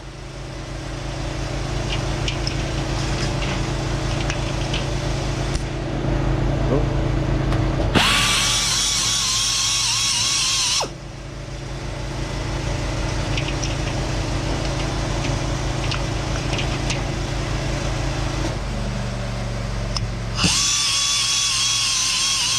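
A grinding wheel sharpening the faces of a carbide-tipped saw blade whines steadily under a motor drone, with two louder, brighter bursts of grinding contact, close up.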